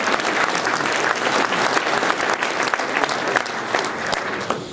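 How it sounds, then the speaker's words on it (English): A hall audience at the Headway awards applauds an award presenter, many hands clapping in a loud, continuous patter that holds steady and then eases slightly. "Round of applause for Jackie, please."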